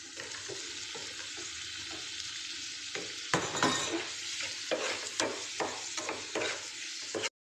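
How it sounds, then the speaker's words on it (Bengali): Fish curry masala sautéed in a pan with salt, a steady frying sizzle broken by close, repeated scraping and stirring strokes that grow louder midway, then stop abruptly, with no talking. "এবার এটাকে ভালো করে কষিয়ে নেব"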